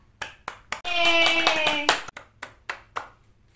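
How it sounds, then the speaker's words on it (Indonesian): Classroom applause breaking out for a classmate: scattered single claps first, then a dense burst of clapping for about a second, fading back to a few isolated claps. "Yuk kita beri aplaus buat teman kita."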